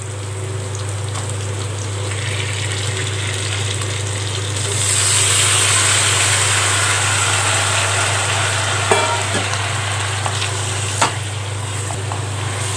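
Chicken pieces frying in oil with softened onions and tomatoes, giving a steady, dense sizzle that swells midway and stays continuous, with a few faint clinks over a low constant hum.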